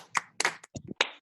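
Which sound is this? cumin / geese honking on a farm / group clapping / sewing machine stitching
group clapping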